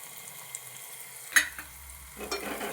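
Curry leaves and turmeric sauté in a tempering pan, a faint, quiet sizzle with a sharp metallic clink partway through and light stirring scrapes building toward the end.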